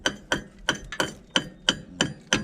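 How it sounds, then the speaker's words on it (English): Hammer chipping welding slag off a bulldozer part, eight sharp metallic strikes at a steady rhythm, close and fairly loud with short ringing decay. "He's getting the slag off of it now."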